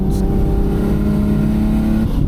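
A boosted Nissan R32 GTR running on 14 pounds of boost pulls hard below 5,000 RPM, a loud, steady engine drone with a rising tone heard from inside the car, with no talking.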